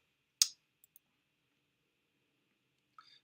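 A computer mouse gives one sharp, close click, then two faint light ticks, and after a quiet pause a final softer click with a small rattle, all in an otherwise silent room.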